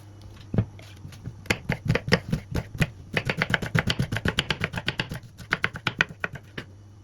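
A knife chops an onion finely on a cutting board, dozens of sharp, close taps in quick uneven bursts with brief pauses.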